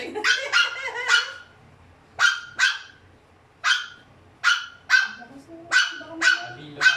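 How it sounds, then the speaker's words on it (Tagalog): A dog barks in short, sharp bursts, about a dozen barks spaced irregularly, fairly close and loud. "Mas malaki yung tahol niya pero siya yung babae."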